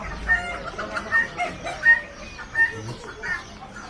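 Large chickens at a bird market in Amman cluck in short, repeated bursts, a string of quick throaty calls spaced about every half second over a low, busy background.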